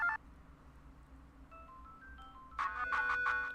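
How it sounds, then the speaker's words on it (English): Electronic cell phone ringtone plays a short rising melody in the background during a Goodbye World indie game session, then repeats louder and fuller, over a low steady hum. "It sounds like a cell phone in the background."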